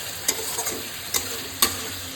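A spice mixture with a little water gets stirred in a wok for a katla fish dish, with a few sharp scraping clacks over a soft steady sizzle.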